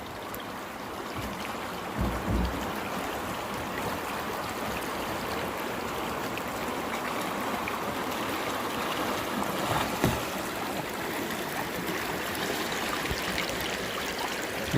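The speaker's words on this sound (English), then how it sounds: "This section of stream has not disappointed so far. The water level's up enough. Nice little fast-moving water." Fast-moving stream water rushes past rocks on the West Fork of Ohio Brush Creek in spring, a steady broadband wash heard up close, with a couple of brief bumps.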